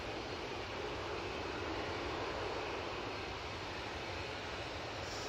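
Emirates flight EK21 arrives at Manchester Airport, a steady, distant broadband rumble of jet engines holding at an even level throughout with no talk over it.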